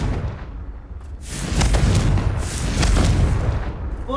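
A Confringo fire-blast spell from Hogwarts Legacy erupts in a deep, rumbling explosive burst that swells and rolls on for several seconds, with layered booming waves and crackling debris, loud and close, no talk over it.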